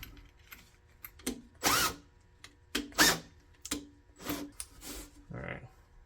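A drill spins a Z50 minibike front fork part in short separate bursts, about eight whirring pulses of varying length broken by quiet gaps, close and moderately loud.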